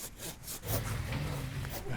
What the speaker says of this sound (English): A chainsaw would be too simple. He'd rather keep sawing it by hand.